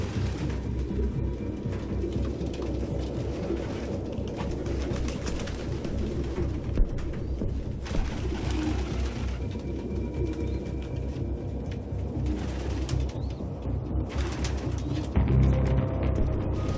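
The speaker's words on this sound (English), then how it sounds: "No human could live with all these fucking pigeons." Pigeons cooing in a cluttered nest in the video game Detroit: Become Human. The soft, layered coos run steadily and fairly close over a low rumbling background, with no speech.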